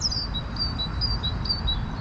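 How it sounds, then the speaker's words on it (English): Robin and blackcap song near a mountain-biking trail, with a repeated series of short high chirps and trills at a steady pace over a constant low rumble. "There's a robin and a blackcap right next to me"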